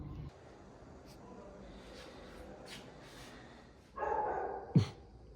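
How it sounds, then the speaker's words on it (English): A dog at a hotel in Mexico barking, a few distant yips and barks early on, then a louder nearby outburst with a sharp bark near the end, amid background noise and voices. "See, the dog's barking."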